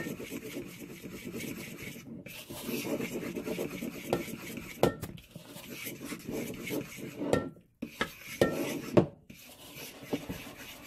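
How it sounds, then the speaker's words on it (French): Crepe batter is stirred in a bowl while liquid is poured in gradually, producing continuous low scraping and swishing strokes with occasional sharper clinks of the utensil against the bowl. "Vous versez un peu et vous mélangez,"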